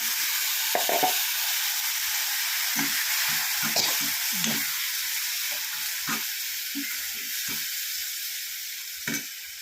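A ground paste of coconut, garlic and cumin is poured into a hot pan of spinach curry, setting off a loud steady sizzle with occasional stirring scrapes and clinks close by.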